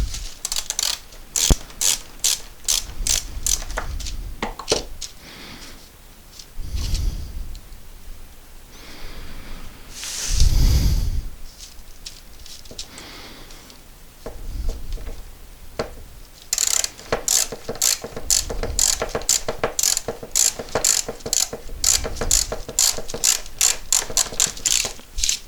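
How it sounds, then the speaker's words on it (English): A worm drive clamp is ratcheted while being repositioned on a segmented woodturning ring glue-up, giving long runs of quick, sharp mechanical clicks in bursts, close and fairly loud, with brief pauses between. "got to reposition the worm drive on this clamp."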